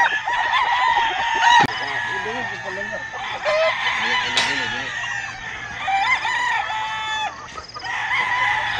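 Young pullets on a poultry farm cluck and chatter in a busy, overlapping flock, with sharp squawks and a crow-like call cutting through at close range.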